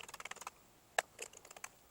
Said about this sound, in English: Now let's just test some keyboards out.